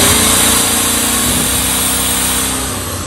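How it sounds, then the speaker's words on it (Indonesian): A Hyundai HDG 2880 portable petrol generator runs loud and close at raised RPM while powering an electric drill, a constant high, buzzy engine whine that eases off slightly toward the end. "ketika kita nyalakan bor ini, otomatis dia menambah RPM-nya yang lebih tinggi ya"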